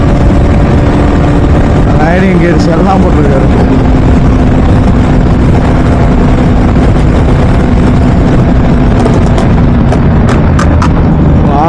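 A motorbike with a loud aftermarket silencer rumbles steadily during a monsoon ride on the Valparai to Athirapilli road, its engine buried in constant heavy wind buffeting while riders talk over it.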